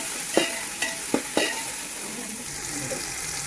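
Mint and tomato sautéing in a pan for chicken biryani, a steady close sizzle broken by four sharp scrapes of a spoon in the first second and a half, then continuous frying hiss with no one talking.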